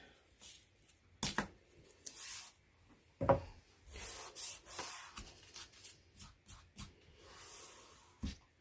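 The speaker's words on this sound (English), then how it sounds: "Hopefully I can scrape off enough paint here to finish this up." Scraping at paint on a wooden pumpkin leopard door hanger, a series of short, dry rasping strokes in uneven bursts, close and fairly quiet, with brief pauses between them.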